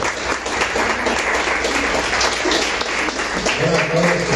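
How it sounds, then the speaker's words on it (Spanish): Loud, sustained applause from a church congregation after a prayer in a sermon, dense crowd clapping that swells throughout, with a voice speaking over it near the end. "démosle un fuerte aplauso"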